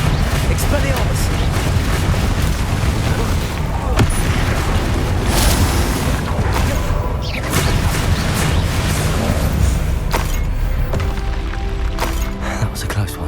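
Loud, dense spell effects from the Hogwarts Legacy video game, with a continuous rumble and crackling energy, repeated booming blasts and bursts under shouted voices throughout.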